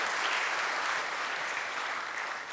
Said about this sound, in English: Please have a huge round of applause for SB Zavre.